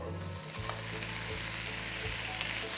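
Chopped bacon, 300 grams, fries in a very hot pan for a quiche filling, giving a steady, dense sizzle and crackle that runs continuously and close up, with no talking over it.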